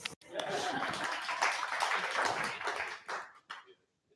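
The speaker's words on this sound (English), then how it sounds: "some applause" A symposium audience applauding steadily for a few seconds, dense clapping with some laughter mixed in, fading out near the end.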